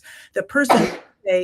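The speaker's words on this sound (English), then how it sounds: "Gesundheit" A single sharp sneeze bursts out in the middle of a conversation, loud and close, with speech just before it and after a short pause.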